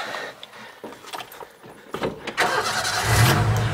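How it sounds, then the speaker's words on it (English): Keys and a door clatter, then the engine of a 1949 Ford truck, a former fire truck with a new starter, cranks and catches, settling into a rough, rumbling idle close by. "Hop in, it starts right up."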